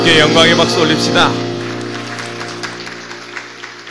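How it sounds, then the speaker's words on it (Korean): A church youth congregation claps at a worship service: a dense burst of applause opens strongly, then thins and fades over a few seconds, leaving a sustained tone beneath. "주님께 영광의 박수 올립시다."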